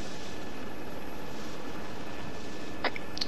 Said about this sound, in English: Well, the chopper's still spinning down there.